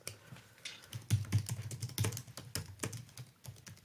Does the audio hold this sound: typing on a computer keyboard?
yes